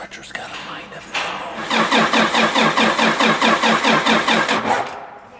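A John Deere-style 340 tractor engine cranks over and over with a steady rhythmic churning, laboring but not catching, loud and close after a brief quieter start.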